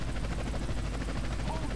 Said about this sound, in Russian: У нас на хвосте вертолет, нам надо от него избавиться.